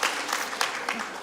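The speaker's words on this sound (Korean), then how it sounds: "박수 한번 환영해 주시면 감사드리겠습니다." A church congregation applauds to welcome a visiting pastor and his wife, giving a brief burst of clapping with a voice faintly underneath.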